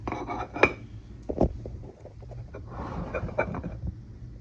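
Rice bowl turned over onto a plate at home for a late-night fried-rice dinner, heard as a few clear ceramic clinks and knocks of dish on dish, with soft handling noise between them.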